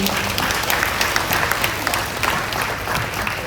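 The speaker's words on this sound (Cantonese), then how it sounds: "請大家以熱烈嘅掌聲歡迎佢哋。" A crowd of parents claps warmly at a school parents' evening show before a parent-and-child lion dance performance, dense steady applause filling the room without a break.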